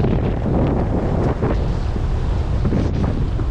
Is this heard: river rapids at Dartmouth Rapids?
yes